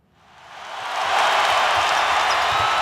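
A crowd in a basketball arena roars into cheering and applause, swelling over the first second into a loud, sustained wash of noise that holds steady to the end.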